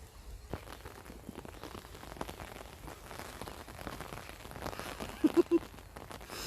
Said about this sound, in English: raindrops on my umbrella